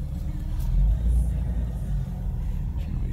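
A four-wheel drive vehicle rolls along in four-wheel high, its engine giving a steady low rumble from inside the cabin, close and continuous.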